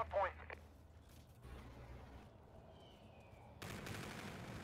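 Gunfire from the video game Call of Duty: Infinite Warfare, a quick burst of shots near the start followed by softer distant game noise, with players talking over it.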